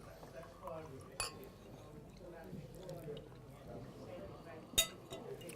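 Glasses clink faintly twice while red wine, a Shiraz Viognier, is poured, a soft trickle under quiet indoor room noise.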